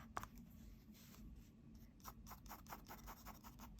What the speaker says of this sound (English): So one thing you notice when I'm doing these lines or hatching, I hold the pencil slightly back for longer lines.